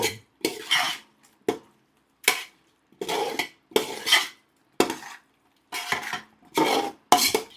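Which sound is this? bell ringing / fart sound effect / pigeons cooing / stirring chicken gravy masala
stirring chicken gravy masala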